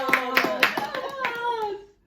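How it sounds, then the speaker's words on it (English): Children clap together in several sharp bursts close by, with young voices chattering over and around the claps before the sound stops abruptly. "Give me a clap."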